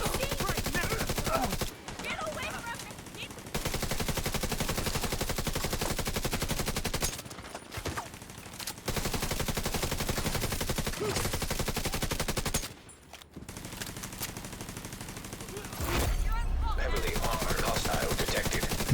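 Sustained rapid video-game gunfire, dense automatic bursts loud and continuous for most of the stretch while shooting at time bombs, with a few short pauses between volleys.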